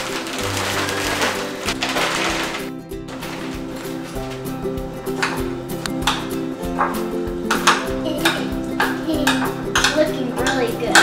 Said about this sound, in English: I'm going to put all of these Oreos in with the cream cheese